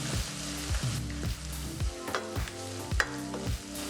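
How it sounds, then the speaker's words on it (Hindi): Onions frying golden in a pan for Chicken Angara, a continuous sizzle broken by repeated scraping and stirring strokes in a loose rhythm, close and alone with no talking. "प्याज को अच्छी तरह से भून लेंगे। प्याज हम गोल्डन फ्राई कर लेंगे।"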